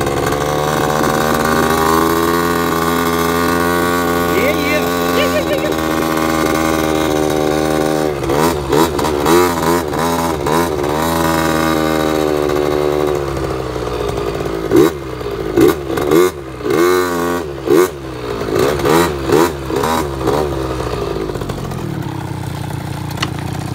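A 2004 KTM 50cc mini dirt bike, ridden by an adult, buzzes with a high, steady two-stroke drone, then revs up and down in repeated choppy bursts as the throttle is worked, loud and close with no talk.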